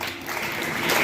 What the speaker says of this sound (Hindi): सबसे पहले आप जोरदार तालियां बजाएंगे लक्ष्मी बाई के लिए।